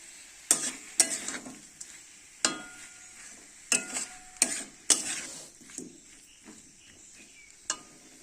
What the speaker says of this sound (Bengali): মশলাগুলো দিয়ে ভেজে নেব